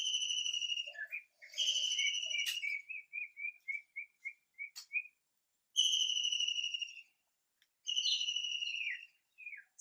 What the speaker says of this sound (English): It's nice we have the birds in the background now.